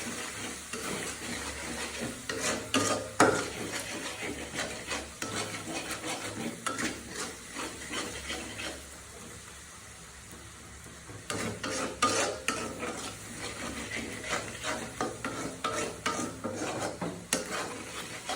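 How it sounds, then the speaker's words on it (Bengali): Spice paste for chicken curry sizzles in oil while a spoon stirs it, giving close, continuous scraping and frying with a brief lull near the middle and no talking. "মশলাটাকে ভালো করে ভুনা করে নেব।"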